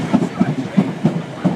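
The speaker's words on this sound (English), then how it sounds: "pulling in there is a 455 off to Hampton Court from London Waterloo" A Class 455 train pulls into Clapham Junction, its wheels giving a steady rhythmic clickety-clack over rail joints, close and fairly loud.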